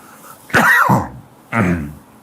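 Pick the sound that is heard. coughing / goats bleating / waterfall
coughing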